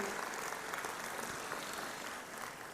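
A crowd at a public event in Indore claps to welcome Nitin Gadkari, a thick, continuous wash of applause that stays fairly even for a few seconds and eases a little at the end.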